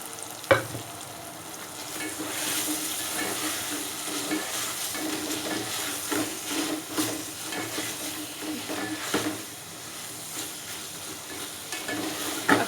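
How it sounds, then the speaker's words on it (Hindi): Boiled guar beans fry steadily in tomato masala in a hot pan while a spoon scrapes and stirs, with occasional clinks against the pot, close and continuous. "ये अच्छी तरह से आपने इसको भूनना है।"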